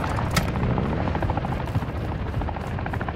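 A video game helicopter's rotor thumps and whines steadily and loudly for the whole stretch, with a brief sharp burst near the start.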